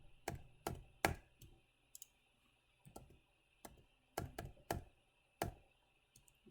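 Sparse, separate key clicks on a computer keyboard, close and quiet, coming in irregular short bursts with gaps between strokes and no talking.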